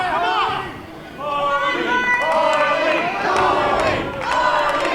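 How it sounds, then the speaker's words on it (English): A crowd at an independent wrestling show cheers and shouts steadily, with chanting, rallying calls and excited chatter filling the hall; a commentator talks over the noise throughout. "Crowd trying to get Harley T. Morris back into this matchup."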